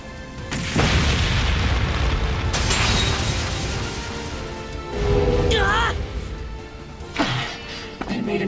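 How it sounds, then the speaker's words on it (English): A sudden loud boom from an improvised flashbang detonating in the video game Trails Beyond the Horizon, followed by sustained rumbling and further bursts, with voices speaking over parts of it. "They made an impromptu flashbang."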